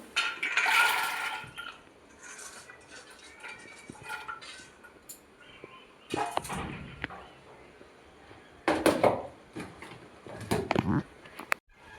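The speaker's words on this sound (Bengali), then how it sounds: "ঢেলে দেবো ডুমুর।" Boiled figs (dumur) tipped into a cooking pot for a Bengali prawn curry: several separate wet, splashing pours with light clinks against the metal, close by and fairly loud, with quieter gaps between bursts.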